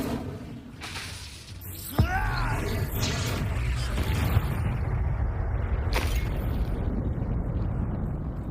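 Incendio fire spell cast in the video game Hogwarts Legacy, a loud whooshing magical burst with a sharp zap and crackling roar that sustains through the clip, with a brief voice near the start.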